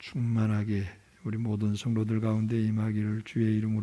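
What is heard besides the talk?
No distinct noise like a dog, phone or traffic.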